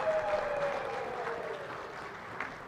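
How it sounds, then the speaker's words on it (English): Applause from the audience at the 44th SADC Heads of State Summit in 2024, a steady, moderately distant clapping of a crowd, joined by a faint held tone at the start. "another round of applause for the incoming SADC"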